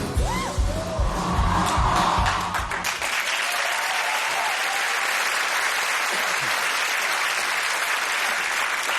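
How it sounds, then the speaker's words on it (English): A large festival crowd at Glastonbury bursts into loud, sustained applause and cheering, with a few whoops over the clapping, after a short stretch of stage music at the start. "And the crowd went absolutely wild."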